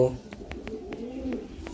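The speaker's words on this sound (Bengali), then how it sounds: "এই যে পায়রাটা তোমাদের আমি এখানে দেখাই" A Madras loft pigeon indoors gives soft, repeated low coos in a steady rhythm, heard close, with a faint voice in the background.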